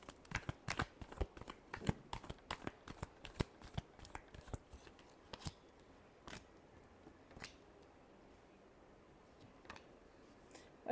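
Tarot cards are shuffled by hand in a quick run of crisp riffling snaps that slows and thins into scattered soft flicks, close and quiet, with no talking.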